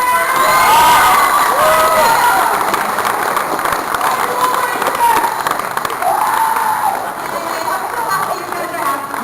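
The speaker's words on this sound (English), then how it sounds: "So let's give it a big round of applause." A large convention audience at an anime panel cheers, shouts and claps loudly and continuously, with excited voices rising and falling throughout.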